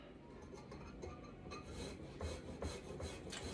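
Fresh turmeric root is rubbed across a fine grater in close, quiet rasping strokes, an uneven series of scratchy scrapes that grow slightly louder and quicker toward the end.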